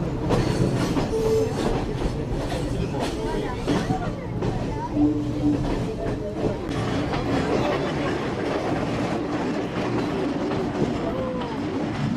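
A passenger train running on the hill railway between Demodara and Ella in Sri Lanka, loud continuous rumble and clatter of wheels on rails with occasional squeals, heard under a talking voice throughout.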